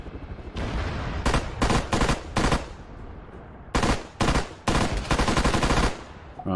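A heavy .50-caliber machine gun fires in Arma 3, loud and close, in repeated short bursts of rapid shots separated by brief pauses.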